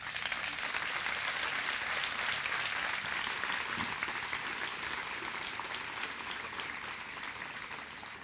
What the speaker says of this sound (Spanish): el único aplauso que quiero pedir en esta intervención es a la gente que ha hecho posible esta escuela